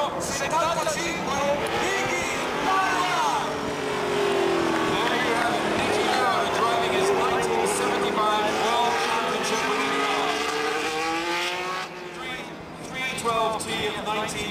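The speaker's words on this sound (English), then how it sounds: "driven here for the first time in many years by the great Austrian champion Niki Lauda" A 1975 Ferrari Formula 1 race car drives in a demonstration run, its engine whining up and down in pitch at a moderate distance, with a commentator talking over the sound.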